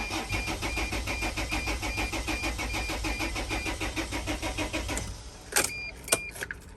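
A Dodge Mercedes T1N Sprinter van engine cranks steadily and fast on the starter for about five seconds with a rapid even rhythm, then stops, followed by a few sharp clicks and knocks.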